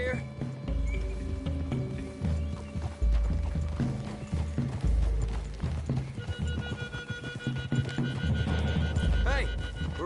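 Horses in Red Dead Redemption 2 clip-clop steadily along a wooded trail and whinny, with creaking tack and gear, while voices talk over the hoofbeats throughout.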